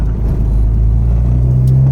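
A car with a fitted K Tuned B/D shifter makes a rubbing noise while driving, heard as a loud, steady low rumble inside the cabin with a faint scraping edge throughout.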